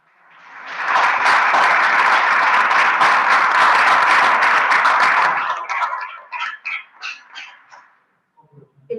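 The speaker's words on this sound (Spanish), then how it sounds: "así que no podíamos no aplaudir" An audience at a book presentation in a university journalism faculty breaks into applause, swelling quickly to a loud, sustained round of clapping for about five seconds before thinning into scattered claps and fading out.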